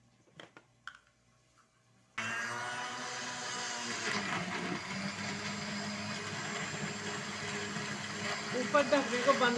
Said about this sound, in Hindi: अब मैं इसमें पानी डाल के थोड़ा सा इसको ब्लेंडर करती हूँ